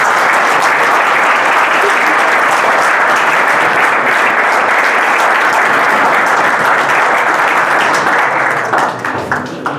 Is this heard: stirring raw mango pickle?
no